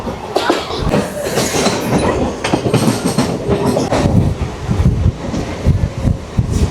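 An uncrowded passenger train rolls along with a loud, close rumble and rhythmic clatter of wheels on track, wind-like rushing noise over the top and no talk.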